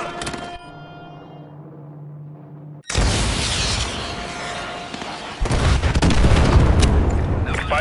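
AGM missile strikes in a PS4 video game hit with a sudden loud, booming blast, then a second heavier wave of explosions and rumbling debris that carries on to the end.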